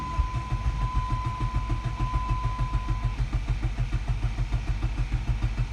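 A car engine turning over on the starter during a compression test: quick, even, rhythmic cranking pulses, fairly close and steady throughout, with no talking.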